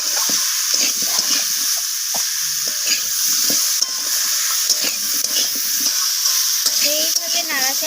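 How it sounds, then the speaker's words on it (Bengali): Brinjal and vegetables with spices are sautéed in a pan for a spinach dish, with a steady sizzle under repeated scraping strokes of a spatula and a few brief tonal clinks near the end. "এইভাবে নাড়াচাড়া করে বেশ কিছুক্ষণ ধরে মশলার সাথে সবজিগুলোকে কষিয়ে নিতে হবে"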